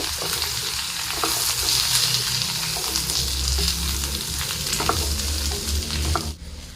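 Asafoetida lump, chilli powder and turmeric stirred in hot oil in a pan for Kerala garlic pickle: continuous loud close sizzling with spoon scrapes and clinks, a brief pause near the end, no talking.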